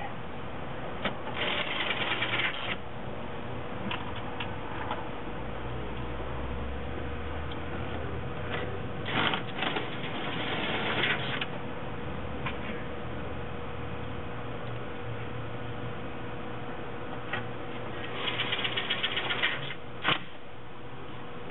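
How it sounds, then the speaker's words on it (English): Screws being driven by hand into a Chevy Tahoe instrument cluster: a quiet, close run of small clicks, scrapes and rattling handling noises in irregular bursts, with a few sharper taps near the end. "we take the screws and just screw them in nice and snug"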